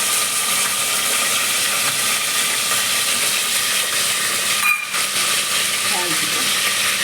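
Mustard seeds, cumin, dried and fresh chillies and curry leaves sizzle in hot oil for a tempering, a loud continuous frying hiss with a brief dip in the middle and faint clatter near the end.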